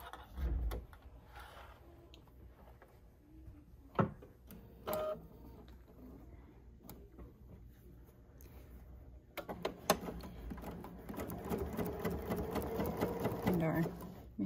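A Bernina sewing machine stitches a quilt block. Quiet handling clicks and thread trimming come first, then the machine runs in a steady whirring burst over the last few seconds, with someone talking in between.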